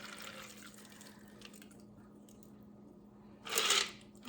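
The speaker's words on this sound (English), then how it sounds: "Then you will strain into the glass." A Bee's Knees cocktail is strained into a glass, a low faint liquid trickle ending in a brief louder pouring splash near the close, with no voices.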